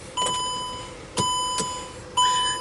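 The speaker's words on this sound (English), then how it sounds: "you can hear the relay" A steering lock relay on a Mercedes W204 clicks sharply a few times at irregular intervals, each click followed by a steady electronic beep tone from nearby equipment.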